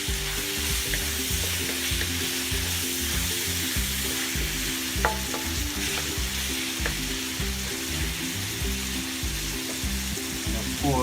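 Beef cubes frying in a hot pan for a party spaghetti dish, a loud continuous sizzle with rhythmic stirring scrapes and a few faint clinks, close and alone.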